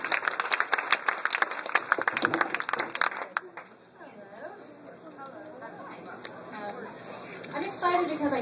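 Comedy club crowd at the Punchline in San Francisco claps loudly for an arriving comedian for about three seconds, then the applause fades into quieter murmur and a voice speaking, with a brief swell near the end.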